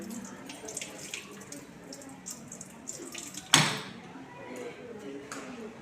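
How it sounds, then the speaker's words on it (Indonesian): Equipment rinsed under a running tap, a soft steady trickle of water with small splashes, capped by a sudden brief clatter or splash partway through, fairly quiet and close. "Lalu bilas di bawah air yang mengalir."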